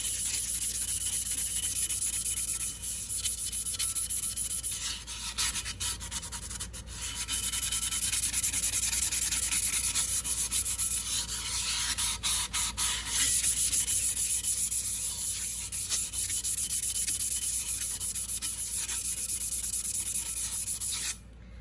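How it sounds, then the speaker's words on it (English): A stainless steel cup is scuffed with 320 grit sandpaper in a steady, close, continuous rubbing rasp that briefly changes tone and pressure partway through, with no speech. "And then I just sand my cup really, really well."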